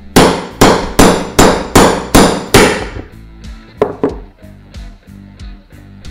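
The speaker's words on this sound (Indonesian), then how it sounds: "ini obeng min bisa kita palukan ke dalam. Nah, baru kita coba pukul ya." Hammer strikes a Bison G20070 mini impact screwdriver in seven sharp, evenly spaced blows, loud and close, then several lighter, more scattered taps with ringing metallic resonance.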